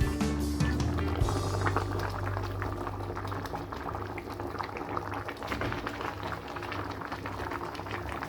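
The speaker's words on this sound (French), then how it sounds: "Maintenant, je vais mettre les légumes." Vegetables go into a simmering eggplant-leaf sauce, a steady bubbling boil throughout with a low rumbling churn, close and continuous, no talking.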